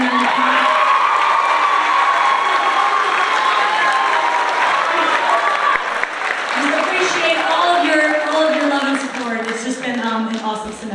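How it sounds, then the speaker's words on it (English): An audience at a winter concert applauds and cheers, with dense, loud clapping throughout and whoops and shouts rising over it as it carries on. "for amazing round of applause"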